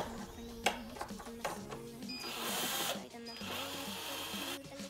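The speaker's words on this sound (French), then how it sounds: "Et vous commencez à visser." A power drill whirs in short bursts, driving screws into a wooden beam while building a homemade skate rail, close up over background music.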